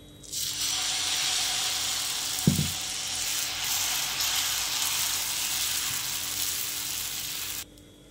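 Garlic masala dosa batter sizzles in oil on a hot pan, a loud, steady close frying hiss that holds for about seven seconds with a brief clatter near the start before stopping abruptly.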